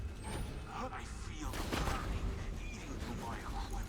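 Turret gunfire in the game Borderlands 2 rattles out in dense bursts and booms, loud and sustained beneath a layer of game noise, with no voice over it.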